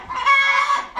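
A hen in a dim winter henhouse gives a loud, close, drawn-out squawking cluck, a single agitated call lasting under a second, with a brief second cackle starting at the end.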